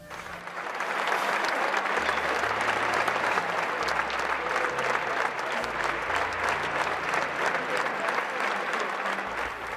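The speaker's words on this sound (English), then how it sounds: "the congregation began to clap" A large congregation at a papal funeral applauds after communion, with steady, dense clapping sustained throughout at full volume, a broad crowd ovation that never breaks.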